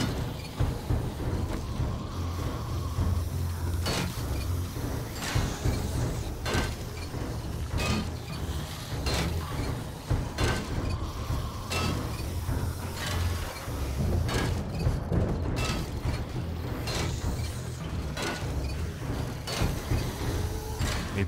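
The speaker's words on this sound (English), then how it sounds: "Maybe let's wrench it all." Salvage being wrenched apart in the video game 7 Days to Die, with repeated metallic clanks and ratcheting clicks in a steady rhythm over a low background hum.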